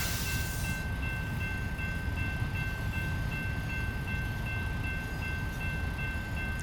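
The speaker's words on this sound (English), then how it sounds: "We finally get a more normal sized train, as it's supposed to be." A freight train of normal length passes in American Truck Simulator, heard as a constant heavy rumble of rolling rail cars after a brief burst of noise at the start.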